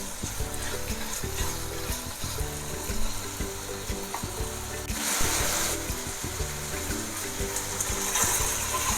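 Chicken pieces frying in a pan make a loud, continuous sizzle with crackles and scraping stir sounds. A brief hiss swells in the middle, and no one speaks.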